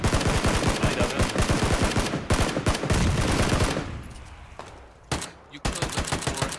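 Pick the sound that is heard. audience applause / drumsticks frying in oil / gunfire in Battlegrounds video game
gunfire in Battlegrounds video game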